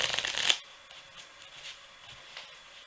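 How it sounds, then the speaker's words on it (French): Two piles of playing cards riffled together in a quick half-second burst of dense fluttering clicks, followed by faint handling noise in an otherwise quiet room. "vous avez juste à mélanger les deux paquets"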